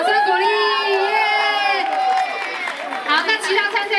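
A crowd at a fans' watermelon-eating contest at a singer's celebration signing event in a Taipei mall plaza cheers and shouts loudly, with high children's whoops and excited voices filling all four seconds rather than distinct clapping.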